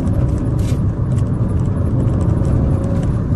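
A 2008 Fiat 500 Sport drives at about 50 mph on a road in Somerset. The cabin fills with a loud, steady rumble and tyre and engine whir throughout, and nobody speaks.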